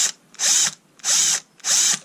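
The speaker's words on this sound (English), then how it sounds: "I'm going to take a gamble and drill here." Drilling into the plastic casing of a Dewalt 3.6V NiCd cordless screwdriver: three loud, close bursts of high whining drill, each about a third of a second, separated by short pauses.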